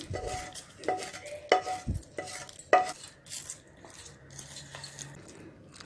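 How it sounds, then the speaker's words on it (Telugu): Tempering is stirred into amla chutney, quiet close scraping and a few sharp clinks of a spoon against a pan or bowl at irregular intervals, with faint sizzle in the background. "ఈ పోపును పచ్చడిలో వేసుకొని కలుపుకుందాం."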